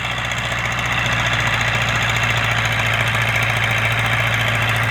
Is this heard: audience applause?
no